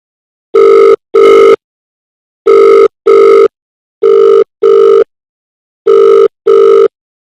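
A telephone rings back during an outgoing call on a Telugu TV show, four evenly spaced double rings, each pair a short steady electronic buzz, clear and loud with silence between and no talk.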